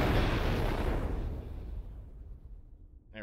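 Missiles launch from a Hades-class ship in the Exodus of Sol space combat game with a loud, booming blast that rumbles and fades away over a few seconds, with no voices.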